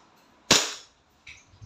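Single sharp shot from an E&C Glock 19 Gen 5 airsoft pistol, close and crisp, followed by faint clicks in an otherwise quiet setting.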